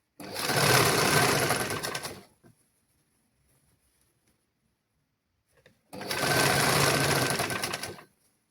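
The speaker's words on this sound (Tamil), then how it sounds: "இதை வந்து இந்த மேல் பகுதியை நாங்கள் இனி மடித்து தைக்க வேணும்" An electric sewing machine stitches a pillow cover in two loud, close bursts of fast rhythmic whirring, each about two seconds long, with near silence between them.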